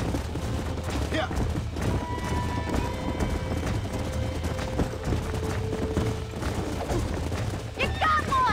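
Hooves clip-clop at a steady gallop across the whole stretch, loud and close, from a frisky horse being roped and ridden in Red Dead Redemption. Voices call out over the hoofbeats, and gunfire cracks and a whinny sound near the end.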